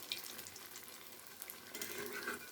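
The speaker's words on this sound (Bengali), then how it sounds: "এইভাবে গোল গোল করে আমি তেলের ভিতর দিয়ে দিচ্ছি" Potato kebabs shaped into rounds and dropped into hot oil, with a quiet, steady bubbling fry and soft splashy crackles throughout.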